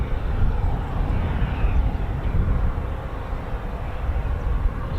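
A CV-22 Osprey tiltrotor flies past at RAF Mildenhall, its steady, loud broadband engine and rotor roar droning continuously without letup.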